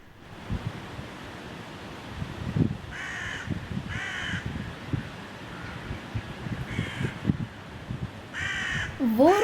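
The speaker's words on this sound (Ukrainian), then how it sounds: "Ворона ми зустрічаємо взимку?" A crow caws in several short, harsh bursts spread across the stretch, moderately near, against a steady rushing background like wind or surf.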